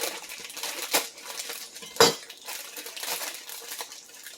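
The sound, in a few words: slicing Brussels sprouts in the kitchen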